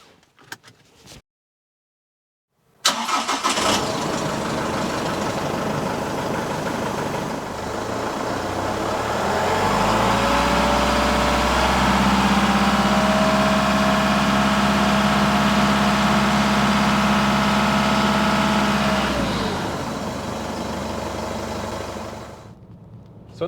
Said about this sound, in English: all I'll hear in the cabin is the engine noise and some turbo